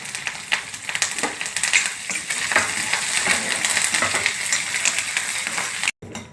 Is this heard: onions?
yes